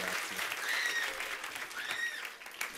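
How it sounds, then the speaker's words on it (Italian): An audience at a live radio concert applauds, a steady wash of clapping heard from within the crowd, with a couple of faint whistles rising above it. "Un applauso, eh?"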